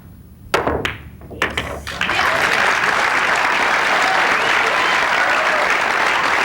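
Applause breaks out from a crowd at a 2006 pool semi-final in Lincoln City, starting after a few sharp knocks and then holding as a dense, even clatter of clapping to the end.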